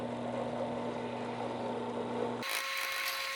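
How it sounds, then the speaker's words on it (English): A steady mechanical whir of a power drill with a 3/16 bit boring through a knife's handle scales, running continuously, then shifting abruptly to a different higher-pitched tone near the end. "I'm just using a 3/16 drill bit on this."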